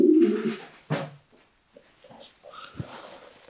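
Domestic pigeons coo softly nearby, a low throaty burble followed by a rustle and a few quieter coos and shuffles.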